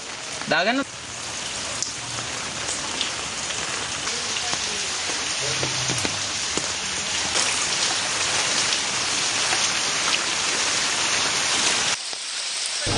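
Heavy rain pours down steadily during flooding in Badulla's Sirigama village, a dense, continuous hiss of drops on surfaces that stays loud throughout before cutting off near the end.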